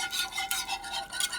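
Cream dried beef sauce is stirred briskly in a pan, a close, continuous swishing and scraping with a few slightly louder strokes and no voices.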